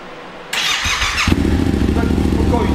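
A Honda CB500 motorcycle fitted with a Lucky Star aftermarket exhaust starts up and settles into a loud, deep, bassy idle with a rapid, even pulse, close to the listener after a brief whirring crank.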